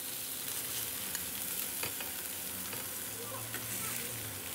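Meatballs sizzle and fry steadily in a pan of hot oil, a close, continuous crackle with no talk over it.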